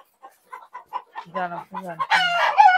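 Fayoumi chickens on a farm cluck in a quick series of short calls that build into a loud crow, close by and with no other sound over them.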